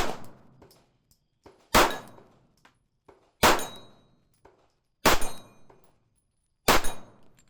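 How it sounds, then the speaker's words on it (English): Four evenly spaced, sharp handgun shots from a Lionheart Vulcan 9 fired single action at a steel plate 25 yards away with Ammo Inc. defensive loads, each loud crack followed by a brief ringing decay, plus a fainter earlier report. "let's just try a few precision shots in single action all the way out at 25 yards"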